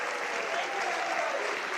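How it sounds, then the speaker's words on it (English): Warm applause from a summit audience after a fireside chat, a dense even wash of clapping from many hands. "Can we give Miss Jarrett a warm, rousing round of applause"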